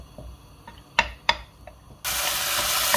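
Diced chicken pieces cooking in a pan, with a few scrapes and stirring knocks at first, then a loud, steady broadband sizzle that takes over and holds to the end.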